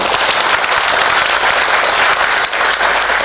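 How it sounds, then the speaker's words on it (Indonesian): Loud, dense audience applause for Bank BPD Bali at its 60th anniversary celebration, a sustained roar of many clapping hands filling the room without pause. "Tepuk tangan untuk BPD."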